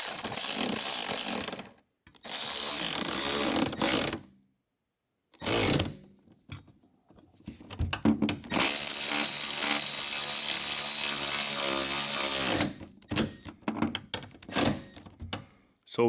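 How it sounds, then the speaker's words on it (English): A power tool tightens bolts on the sliding door of a Honda Odyssey, giving several loud buzzing bursts of several seconds each, broken by short pauses and ending in brief stuttering pulses. "So now we're going to tighten these two bolts."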